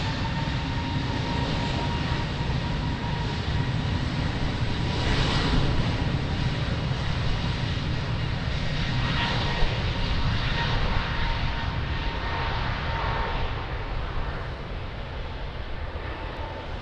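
An airliner takes off from Lisbon Airport's runway 02, a loud, steady engine roar with a broad rushing hiss that holds throughout and eases slightly near the end, with no voices.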